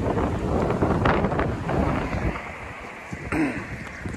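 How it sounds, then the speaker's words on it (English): Wind blows outdoors in a grassy home yard, buffeting the microphone with a loud, continuous rushing roar that swells and eases in gusts. "Sorry about the wind also."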